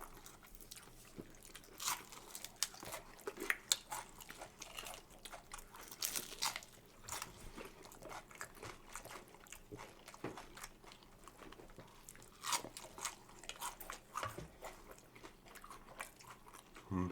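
Someone bites into and chews a large crunchy pork egg roll, with sharp crunches scattered irregularly through the chewing at close range, fairly quiet overall.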